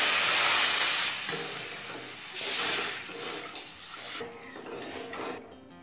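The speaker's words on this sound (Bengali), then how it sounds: "এবার পরিমাণ মতো গরম জল দিয়ে দেবো।" Hot water is poured into frying spiced masala for a taro seed curry, giving a loud burst of sizzling steam hiss that fades gradually, with stirring scrapes of a utensil against the pan.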